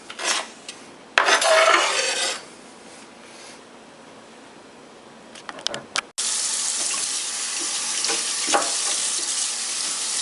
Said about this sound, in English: So I'm washing all the celery